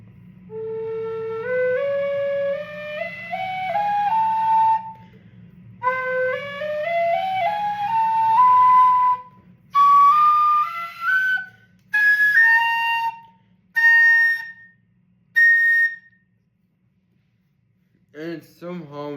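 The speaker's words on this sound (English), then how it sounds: "this whistle is the most eerie whistle I've ever owned" An Eb Generation tin whistle plays rising scale-like runs of clear, bright tones, breaking into short separated high notes near the end, with a low steady hum underneath and a brief breathy sound at the close.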